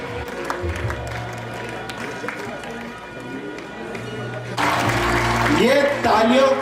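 Audience applause at a school alumni meet held at a Jawahar Navodaya Vidyalaya campus, a broad wash of clapping that swells louder midway and continues steadily, with no speech heard.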